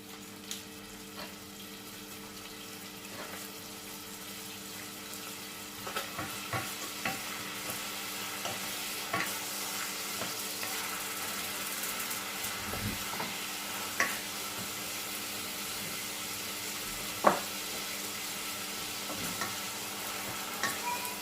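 Onion frying in a pan for a Cameroon fish roll filling, a quiet steady sizzle with occasional stirring clicks and light knocks, heard alone without talk.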